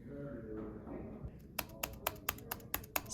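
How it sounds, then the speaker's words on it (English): Clicky keyboard keystrokes tapping at a steady pace, with a murmur of background noise before the typing starts. "My keyboard, on the other hand,"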